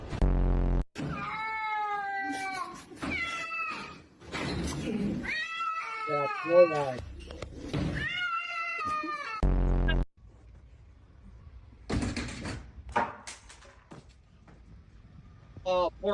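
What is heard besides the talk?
cat meowing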